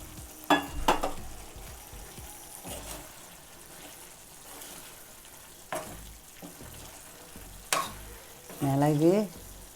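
Mutton fries in a pan with freshly ground homemade masala, a low steady sizzle broken by several sharp scraping stirs and a clatter near the end, with a voice briefly speaking.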